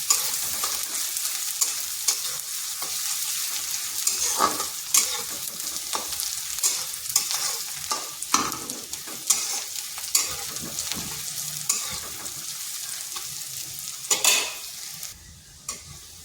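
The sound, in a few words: onion and garlic frying in a pan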